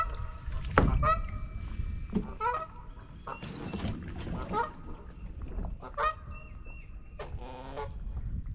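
Geese on Beaver Lake give a run of loud, irregular honks close to a kayak, some calls overlapping, over steady outdoor noise with a few clucking notes.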